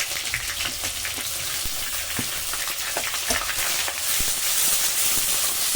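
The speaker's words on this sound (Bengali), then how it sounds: "পেঁয়াজটাকে হালকা করে ভেজে নেবে, খুব বেশি না, হালকা করে" Chopped onions fry lightly with cumin seeds in a pan, a steady close crackling sizzle with scattered pops and occasional stirring, no talking.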